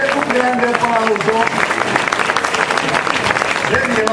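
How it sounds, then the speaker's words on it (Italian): A school audience at a lyceum event breaks into loud, dense applause that continues evenly, with voices and chatter mixed in throughout. "a cui andrebbe un grande applauso"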